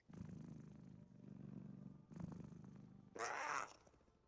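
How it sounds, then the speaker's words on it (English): A house cat purrs close by as a steady low rumble in repeated phrases, each lasting about a second, followed near the end by a brief brighter, noisier burst. "Hello, kitty."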